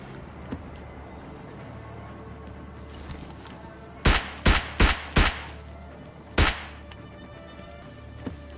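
Gunfire in the video game PUBG Mobile Lite: sharp single shots ring out in a quick burst of four, then one more after a pause. Each report is loud and close, with a faint, scattered shot before and after.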